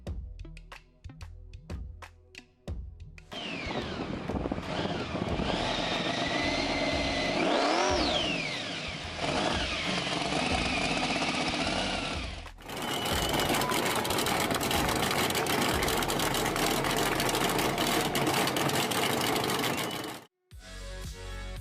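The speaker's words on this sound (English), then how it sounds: "The deep, roaring sound of its dual exhaust system makes it a true showstopper" A deep engine with a dual exhaust rumbles, then revs with a rising roar and settles into a loud, sustained growl, with a brief drop near the end.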